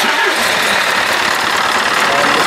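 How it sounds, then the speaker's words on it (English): A Hino truck engine cranks and catches, then runs as a loud, close, rough rumble with knocking texture, continuing steadily through the short stretch. "I'll start the truck."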